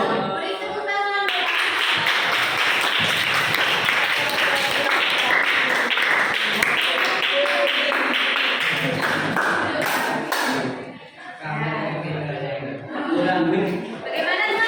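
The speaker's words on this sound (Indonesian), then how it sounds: "Beri tepuk tangan" Classroom audience claps after a student's speech, a loud sustained burst of many hands that thins and stops, then scattered chuckles and talk follow.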